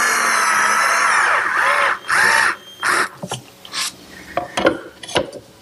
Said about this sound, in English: now I'll center the base on the top and attach it with some screws